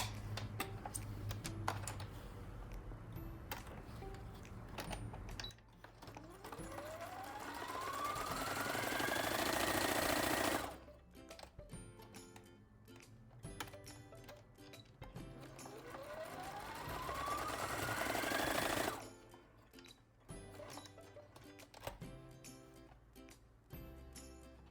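A sewing machine topstitches along the seams of a fabric Easter bunny comfort toy, two long steady runs of rapid stitching each lasting several seconds, separated by quieter stretches of handling and clicks.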